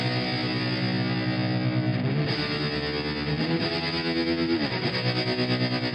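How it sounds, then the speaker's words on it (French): Distorted electric guitar riff with a tremolo effect in an American rock style, sustained chords pulsing throughout, loud and continuous with no voices. "un petit trémolo, ça pourrait être bien sympa, donc voilà ce que ça donne."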